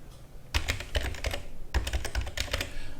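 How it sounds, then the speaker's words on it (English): A username is typed on a computer keyboard indoors: two quick runs of close, crisp key clicks separated by a short pause. "Click on there, type in your username."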